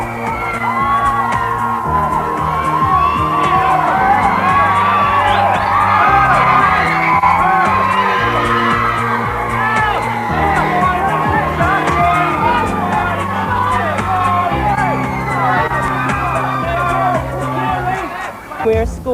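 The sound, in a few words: crowd screaming and shouting at the Brit Awards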